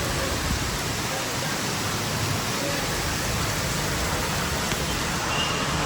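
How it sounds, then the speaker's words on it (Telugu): Heavy rain pours down outside in a dense, unbroken roar that holds steady at a loud level from start to finish, with nothing else standing out above it. "వర్షం పడుతుంది చాలా"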